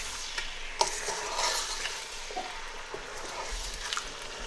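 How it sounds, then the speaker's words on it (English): Lamb and spinach saag frying in a pan, a steady broadband sizzle with scattered stirring scrapes and clinks of a utensil against the pan, close and moderately loud with no talk. "So in a pan in which spinach or saag is getting fried"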